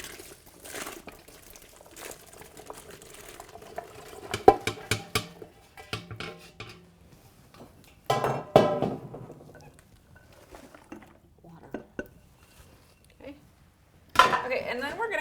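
Butter and vegetables go into a beef soup in an 1820s kitchen: scattered clattering of pots and utensils, dumping and splashing bursts, with quiet stretches between.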